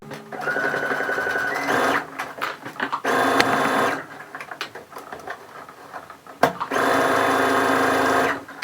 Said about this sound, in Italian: vado a cucire a 1 centimetro dal bordo